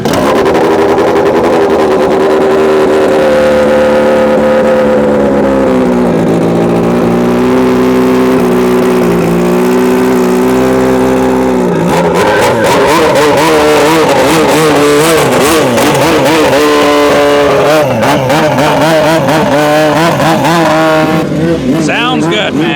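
Race car engine at a radar run event, loud and close, holding a steady drone then revving hard with a fluttering, rising pitch; voices are heard over it.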